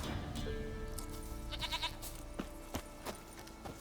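A goat in The Witcher 3 bleats a few times over a steady backdrop of game ambience and music, the calls brief and moderately close, with no talk.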